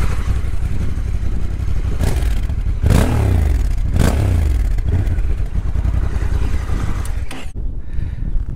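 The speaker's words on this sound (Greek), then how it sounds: "Και εδώ η εξάτμιση βγάζει επίσης όμορφο ήχο όπως το Αφρικα." Honda NT1100 DCT motorcycle in Sport mode, exhaust droning steadily and loudly while riding, with wind rush and a few louder swells, then a brief dip near the end.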